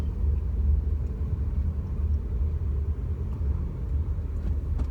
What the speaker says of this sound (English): We're in rush hour traffic, Dallas, Texas, on my way home.